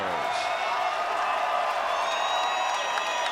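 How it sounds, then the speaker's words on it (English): Crowd applauding and cheering for two bare-knuckle boxing fighters after five rounds at a BKFC event in Albuquerque, a steady dense wash of clapping and whoops throughout with a voice over it. "let's have a round of applause for these 2 warriors"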